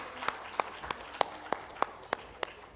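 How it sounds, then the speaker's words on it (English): Slow, sparse claps at a conference inauguration as a director is welcomed onto the dais, about nine distinct claps in a steady rhythm, fairly faint and isolated. "a round of applause, huge round of applause, please, as I welcome ma'am onto the dais"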